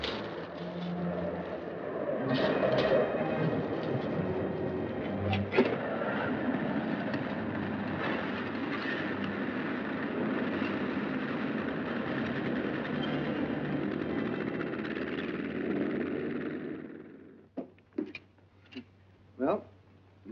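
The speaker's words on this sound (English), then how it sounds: "That must be the plane." Aircraft engine droning steadily overhead, loud and sustained for most of the clip before cutting out, with a few short sounds after it fades and voices partly under it.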